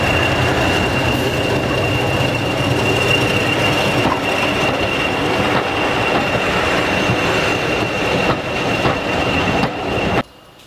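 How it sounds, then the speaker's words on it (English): A 1959 English Electric Class 20 diesel locomotive on the Keighley & Worth Valley Railway rumbles steadily close by, wheels clattering and squealing on the rails, with a constant high whine throughout before it cuts off near the end. "this is the Type 1 Class 20, built in Darlington in 1959 by English Electric"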